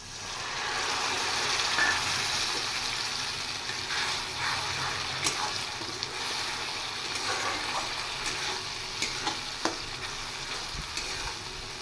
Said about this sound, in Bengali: এবার মশলাটা আরেকটু ভেজে নেব। এবার দেব পেস্ট করে রাখা সর্ষে আর কাঁচা লঙ্কা।